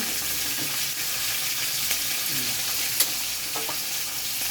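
Fish frying in a pan in a home kitchen, a steady broadband sizzle that runs unbroken through the clip with a few small clinks and pops, loud and close, with no talking.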